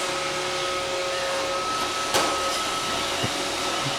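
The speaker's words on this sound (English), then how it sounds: "Go get the vacuum." A Roomba robot vacuum cleaner runs with a steady, loud whirring drone, with a couple of brief bumps and knocks as it moves around the room.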